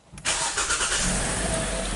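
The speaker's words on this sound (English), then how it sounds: "so the vehicle start right up" 2017 Kia Sportage, just repaired for extended cranking and stalling, starts at once from cold: a brief crank, then the engine catches and settles into a steady, loud idle close by.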